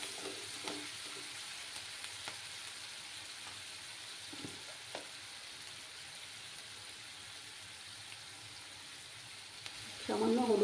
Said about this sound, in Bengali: এবার আমি এই মশলাগুলো দিয়ে দেব। চুলার আঁচটাকে কমিয়ে রাখলাম, ভালো করে মশলাটা কষিয়ে নেব।